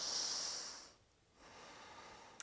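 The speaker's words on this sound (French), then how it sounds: "on prend encore 2 respirations ici" Slow, deep breathing during a yoga pose, heard up close: a long breathy exhale, a brief quiet gap, then a softer sustained breath with a faint click at the end.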